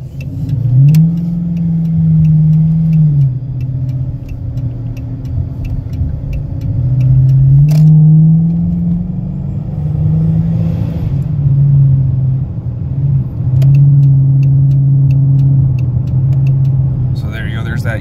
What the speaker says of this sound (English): there's that easy acceleration, but you see how the RPMs kind of go up to upper 2000s